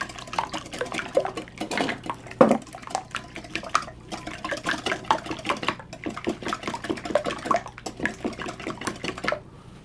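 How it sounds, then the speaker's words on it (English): A whisk beats the mango float flan mixture in a bowl with rapid, continuous rhythmic clinks and wet slaps, close and steady, with no one speaking. "So we're just gonna whisk it first, get that all mixed up and incorporated with each other."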